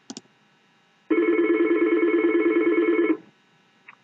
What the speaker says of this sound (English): and it's going to dial that number.